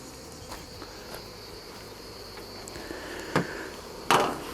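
Honeybees buzzing around beehives at an apiary beside a pond during a hive inspection, a faint, steady hum with a few sharp knocks or clicks near the end.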